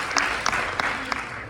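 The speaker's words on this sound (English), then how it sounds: "this round of applause is for you guys" Audience applauding at a filmmaker spotlight talk, a short bed of crowd clapping with a few sharper nearby claps standing out.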